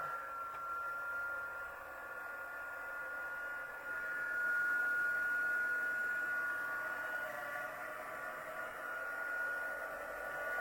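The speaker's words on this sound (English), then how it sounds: "And then you want to warm your heat tool up first." Craft heat tool warming up, a faint, steady blowing hiss that runs unbroken throughout with a slight rise midway.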